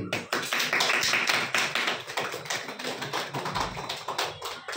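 Hands clapping together in a quiz session, a quick, continuous run of sharp claps from several people close by, fairly loud throughout.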